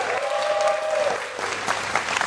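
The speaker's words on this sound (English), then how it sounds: "Can we have a round of applause for Dr." Audience at a New York City mayoral announcement breaks into applause, a short even burst of clapping with a brief tonal sound near the start.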